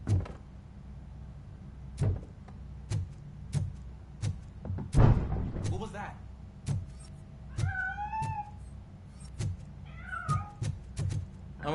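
A cat meows twice in rising, wavering cries amid sharp knocks and clattering thumps, with a mechanical whir like a sliding door or window in the background.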